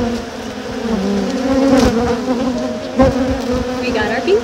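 A loud, dense swarm of honey bees buzzes close by at a feeder, a thick droning hum that swells and wavers throughout with no voices.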